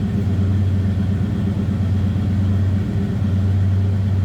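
A 1955 Chevrolet 3600 stakebed pickup with a newer 350 V8 runs steadily, giving a deep, even, loud rumble with a faint throb and no voices.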